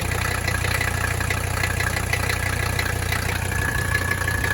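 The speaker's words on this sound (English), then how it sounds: "So our engine's idling" A Mercedes 300D diesel engine idles with a steady low rumble and faint rhythmic knocking, constant and unbroken, with no voices.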